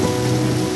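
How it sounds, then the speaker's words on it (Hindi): Heavy rain falls in the Uttarakhand mountains as a dense, loud, continuous roar of water close by, with no talking. "बारिश बहुत तेज़ लगी है"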